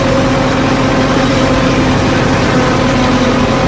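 An Escorts Farmtrac tractor with automatic draft and depth control works a cultivator in a field, its diesel engine droning loud and steady under heavy load, close by and with no talking.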